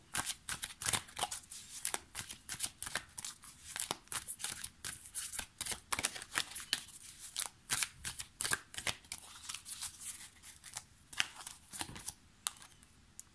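Oracle cards being shuffled and drawn by hand, a long run of close, crisp riffling flutters and snaps in irregular bursts, quiet and without talk.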